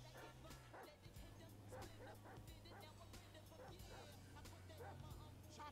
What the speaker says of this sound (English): Chop a free spirit. He bark all he like.